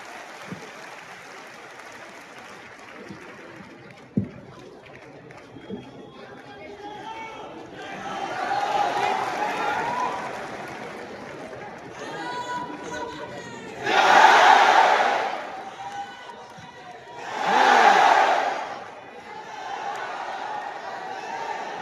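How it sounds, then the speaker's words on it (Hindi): A seminar audience breaks into loud applause and cheering in two strong bursts, with crowd chatter and a host's voice speaking in between. "तालियां होनी चाहिए जोरदार आप सभी की"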